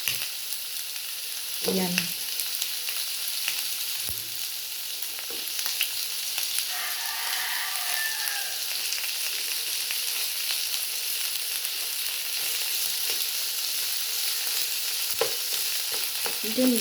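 Red onion frying in a pan for home-style beefsteak, a continuous close sizzle with scraping stir strokes, and a short spoken word near the start.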